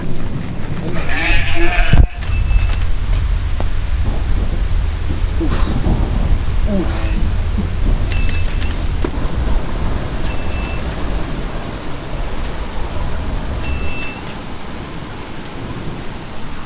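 Heavy rain pours down steadily in a supercell thunderstorm in the Charolais countryside, with a loud crack of thunder near the start, while faint bleats and bird chirps sound in the distance.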